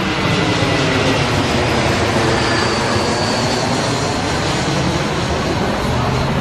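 An airplane roars steadily overhead outside an anime convention, a loud, continuous broadband engine rumble that fills the whole stretch without a break.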